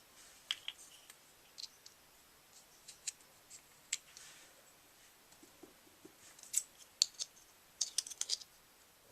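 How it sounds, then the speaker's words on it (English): Scissors snipping and clicking as they widen poked holes in plastic water bottle caps, a scattered run of short, crisp cuts and clicks at close range with no talking. "If the poked holes aren't wide enough, you can enlarge them with scissors."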